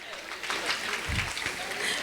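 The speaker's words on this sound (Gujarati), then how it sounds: "જોરદાર તાળીઓ થઈ જાય." Audience clapping at a school Republic Day celebration, a soft continuous patter of many hands heard from a distance and sustained for the whole moment.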